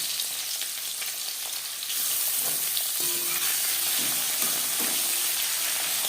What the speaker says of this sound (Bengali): চার চামচ রিফাইন্ড অয়েল গরম করে নিয়েছি এবার দিয়ে দেব ম্যারিনেট করে রাখা মাছ